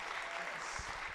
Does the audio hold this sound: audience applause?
yes